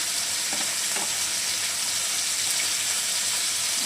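Kajal fish fries in hot oil with a steady, dense sizzle, close and constant, with a couple of faint soft knocks early on and no talking.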